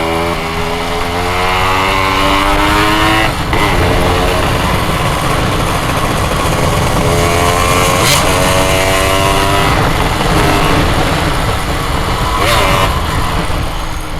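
A Yamaha RX King two-stroke motorcycle with a modified exhaust and tuned carburettor rides along, its engine loud and close, rising and falling through gear changes for the whole stretch, with faint talk underneath.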